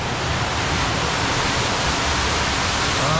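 A steady, full roar of rushing water close by from the Gebius waterfalls near Gelendzhik, pouring continuously with no pauses.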